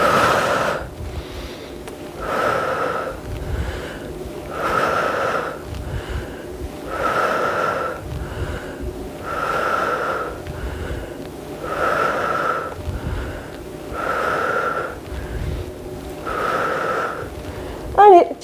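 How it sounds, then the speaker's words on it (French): Heavy breathing in and out during a muscle-strengthening workout, about eight rhythmic cycles roughly every two seconds, close and steady, with a faint low rumble underneath. "Et tu inspires et tu expires"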